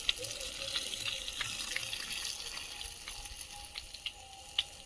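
Water is poured onto potted plants, a faint, steady trickle and splash with small drips, quiet and fairly close.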